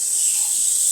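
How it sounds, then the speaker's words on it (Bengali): Boiled spinach frying with prawns in a pan: a steady, bright sizzling hiss, unbroken and fairly loud for about a second. "এখন নেড়ে চেড়ে শাকটা চিংড়ি মাছের সাথে একটু ভেজে নিব"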